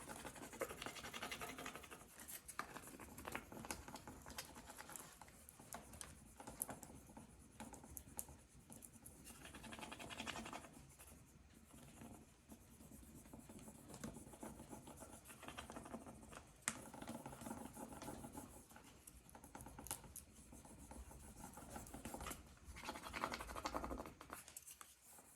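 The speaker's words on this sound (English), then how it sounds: "rub them on, grab our stick, and we will burnish. Burnish well" A stick burnishes an adhesive transfer, rubbing and scratching in quiet, steady strokes that come in bursts and pauses, close by and faint.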